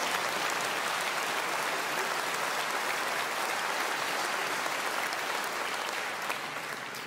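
Sustained audience applause at a stand-up comedy show in France, a dense, even wash of clapping from a large crowd lasting the whole clip.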